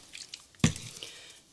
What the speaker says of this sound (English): I'm going to add some water to the palette